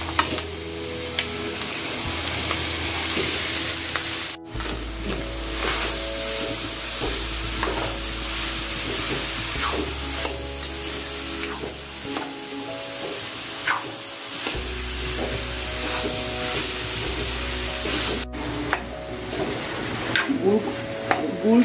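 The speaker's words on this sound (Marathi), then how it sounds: "आता हे गूळ आणि खोबरं एकत्र करून आपण चांगलं भाजून घेऊया, एकजीव होईपर्यंत" Jaggery and grated coconut being stirred and roasted together in a kadhai for rava modak, with steady scraping and soft sizzling running throughout.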